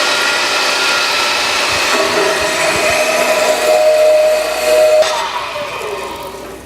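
Metal stock clamped in a vise being sawn for a child-size welded shop stool, a steady loud grinding hiss with a sharp ringing tone near the end before the cut winds down.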